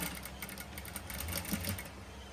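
A sewing machine runs steadily while stitching a princess-cut saree blouse, a continuous close whirring hum with faint rhythmic needle clatter throughout.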